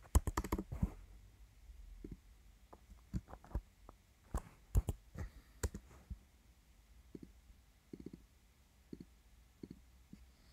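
Someone typing on a computer keyboard while filling in tables: a quick cluster of clicks, then scattered irregular keystrokes and taps spread over several seconds, close and fairly quiet, with no talk.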